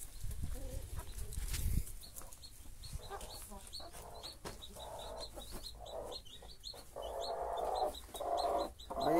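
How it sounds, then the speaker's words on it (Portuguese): Newly hatched chicks peep in repeated short, high chirps through most of the stretch, with a low thump at the start and some background clucking and farmyard fowl noise. "Nasceu os pintinhos."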